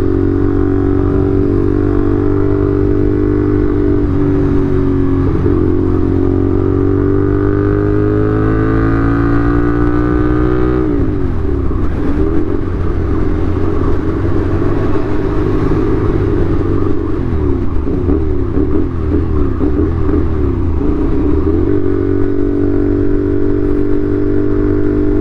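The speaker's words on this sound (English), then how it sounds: "Absolutely, like, amazed with the sound on this bike though." CFMOTO 450SR sport motorcycle engine under way, a loud, close, continuous drone with rising and falling revs through gear changes, including a sharp dip and pickup around the middle, with no talking.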